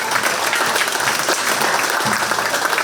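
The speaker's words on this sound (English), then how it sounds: "please give them a big round of applause" Sustained applause fills the room at a 4-H county fair swine show after a class of gilts is presented, steady and dense clapping from a crowd with no speech over it.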